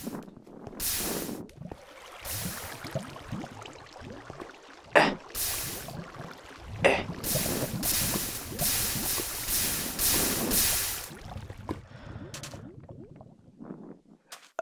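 Flowing water in the video game Minecraft rushes in repeated loud bursts of broad hiss, separated by brief quiet gaps.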